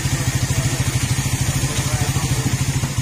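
A Raider 150 Fi motorcycle idles steadily and up close, its engine giving a continuous even pulsing throb with a radiator cooling fan whirring underneath. It is a bike that had been overheating and leaking coolant.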